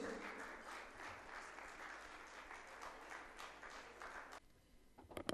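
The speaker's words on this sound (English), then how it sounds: "Let's give them a round of applause as they join us on stage." An audience at a Rajasthan Cosmo Club event claps steadily for the club president coming on stage, then the applause drops away toward the end.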